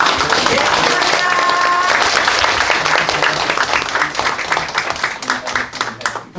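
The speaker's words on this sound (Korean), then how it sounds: "한번 박수 쳐드리도록 하겠습니다." An audience at an international symposium on the Yangsan clawed salamander breaks into applause: dense clapping from a crowd that starts strong, then thins into scattered individual claps as it fades, with a brief tone near the start.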